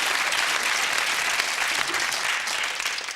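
Sustained studio audience applause on a 1990s British quiz show, a dense, loud wash of many hands clapping with no break, easing slightly at the end.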